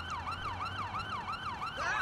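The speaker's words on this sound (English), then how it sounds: "ambulance is on the way" In the Watch Dogs 2 video game, an ambulance siren wails in a steady rising-and-falling cycle and stays loud and close throughout, with another siren tone joining near the end.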